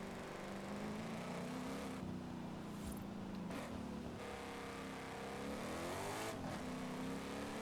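A Bugatti Divo drifts in the video game Forza Horizon 5, its engine a loud, continuous roar with revs swelling and dipping as the car slides.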